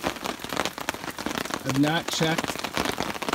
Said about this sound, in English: it's been raining too hard and I don't want to get super soaked